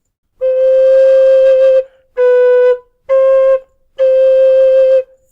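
Four sustained notes on an aluminium low D whistle with a low, rich tone, played one after another with short gaps, clear and close with no voices.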